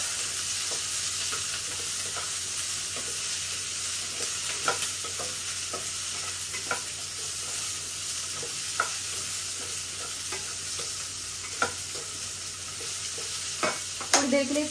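Green capsicum, onion and mushrooms fry in a pan, a steady hissing sizzle broken by repeated scraping and clacking stirs, close and fairly loud with no voices.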